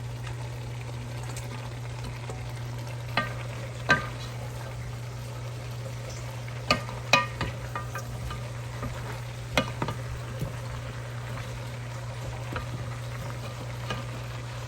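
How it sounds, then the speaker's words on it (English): Pig feet frying in a pot for a Puerto Rican dish, stirred with a utensil: a steady low sizzle runs throughout, broken by a handful of sharp scraping knocks against the pot. "And give that a good stir"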